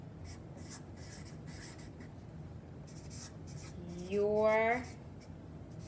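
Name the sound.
writing with a black marker on a popsicle stick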